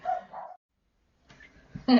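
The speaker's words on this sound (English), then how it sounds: "Sorry about the dogs." Dogs barking indoors in a short burst, a couple of yaps then a pause and more barks, moderately close, mixed with faint speech-like sounds.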